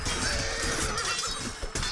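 Horses neighing in the Shogun Total War strategy game, a loud, continuous whinnying mixed with battle noise and hooves, with a brief crash near the end.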